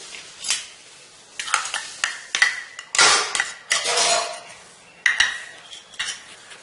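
Metal spoon clinks and scrapes against a pan as chopped shallots and green chillies are stirred in for an egg chapati, a string of sharp, close clatters in uneven bursts with no talking.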